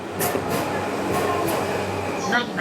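A green commuter train on a Tokyo rail line rumbles past with a steady roar and some rhythmic clatter, loud and close, with a faint voice mixed in.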